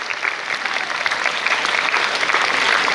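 Audience applause at a school Republic Day celebration in an academy hall: a steady, dense crowd of clapping hands that holds at an even level for about three seconds, with no voices on top.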